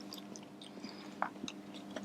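Crunchy Japanese fried chicken takeaway, like popcorn chicken, is chewed in quiet, close bites with a few soft crunches over a low room hum.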